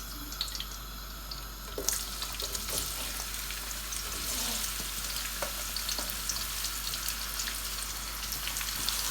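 Sliced onions frying in oil for mutton yakhni pulao, a steady soft sizzle with occasional clinks and stirring scrapes, no talking.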